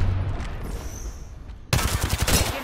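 Rapid video-game gunfire erupts midway, a dense burst of repeated shots close and loud after a quieter stretch of ambient game noise.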